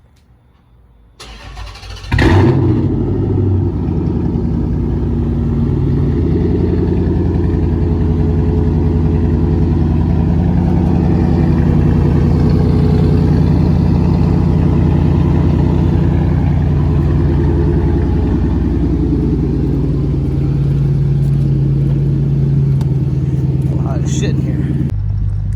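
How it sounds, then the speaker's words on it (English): A Dodge Charger cold-starts with a brief cranking whir before the engine catches into a loud, steady, rumbling idle that holds for over twenty seconds; a voice talks over part of it. "let's just do a quick little cold start here"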